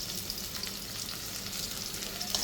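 Cinnamon, cloves, cardamom and green chilies fry in hot oil for a country chicken roast, a soft, even sizzle with faint stirring and no voices.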